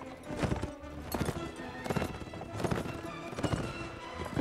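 A horse gallops in the video game Mount & Blade Warband, with rhythmic hoofbeats thudding at a steady pace and fairly close, with no voices.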